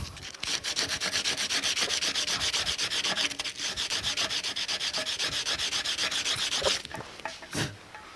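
Electric drill with a 40 grit disc grinding old gasket material off a water pump surface, a steady close, loud rasping whir that runs continuously and cuts off near the end.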